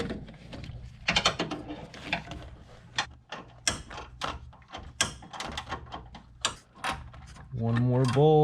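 A ratchet turns as someone unscrews the battery tray bolts on a Honda Fit, giving close, clicky mechanical bursts and scrapes in uneven spurts, with a voice at the end.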